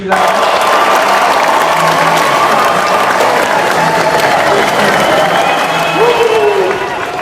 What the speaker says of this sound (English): Let's give Mr. Hunt a massive round of applause.